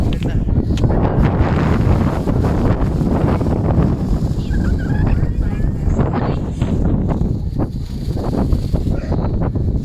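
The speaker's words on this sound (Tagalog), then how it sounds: "napakalakas ng hangin dito" Strong wind roars and buffets the microphone continuously at Monte Maria, Batangas, a loud rumbling gust noise with voices faintly talking beneath it.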